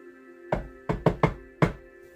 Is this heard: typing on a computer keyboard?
no